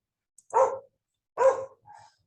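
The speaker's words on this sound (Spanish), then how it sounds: "recen, recen, recen para que se callen estos perros" Dogs barking in two loud bursts about a second apart, followed by a shorter, fainter yelp, all fairly close with quiet in between.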